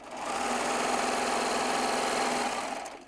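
A Baby Lock serger runs a 4-thread overlock in one continuous burst, a close, steady mechanical whir and rapid needle chatter that ramps up, holds about two and a half seconds, then stops.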